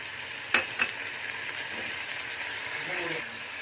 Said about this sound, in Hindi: सिरका डालते हैं।